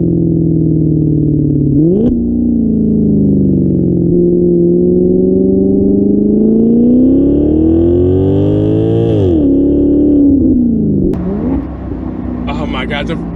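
A Maserati GranCabrio V8 with the top down revs hard in sport mode, a loud, close growl rising and falling through gear changes, sweeping upward through a long pull before a sharp drop and a brief crackle near the end.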